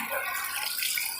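Water is poured steadily over a deceased body during a ritual Islamic washing, a continuous splashing pour that runs alone and close for the whole moment.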